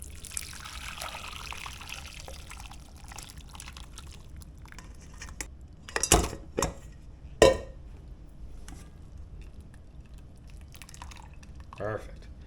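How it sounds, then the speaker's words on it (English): Lobster-infused cooking cream is poured through a strainer for lobster mac and cheese. Faint trickling and dripping run under soft background noise, with a few louder clinks of metal and pot. "Put it through the strainer."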